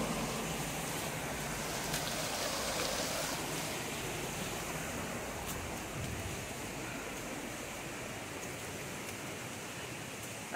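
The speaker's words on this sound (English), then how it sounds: "But they're using the natural waterfall." A natural waterfall in Copey, Costa Rica, used at a trout farm, roars as a steady broadband rush of falling water, constant and fairly distant, with no voices over it.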